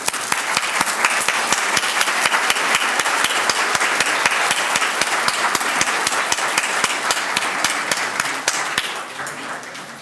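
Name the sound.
audience applause to see off the presidium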